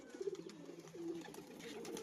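Giribaz high-flying pigeons coo softly in a rooftop loft, a few low rolling calls heard close but faint with no talk.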